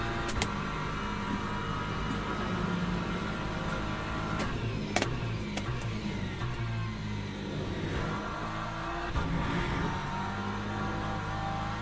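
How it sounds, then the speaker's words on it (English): A hypercar in Le Mans Ultimate holds a steady engine drone while driving and sliding, a continuous mid-level roar with a few brief clicks over it and no talking. "Hypercar sliding around there."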